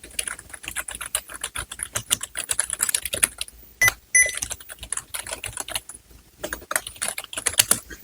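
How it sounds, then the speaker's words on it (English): Rapid typing on an AULA S99 RGB gaming keyboard: a dense, steady stream of crisp key clicks and clacks, close and fairly loud, with a brief pause near the middle. "And now let's start typing."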